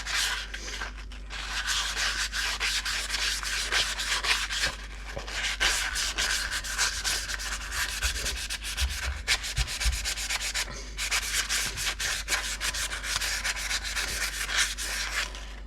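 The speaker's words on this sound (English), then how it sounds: "A bit of sandpaper or is this a bit of 320?" Hand sanding with 320 grit sandpaper on a 1939 Chevrolet makes a continuous close rasping scrub, long even strokes with brief pauses, steady and fairly loud with no voices.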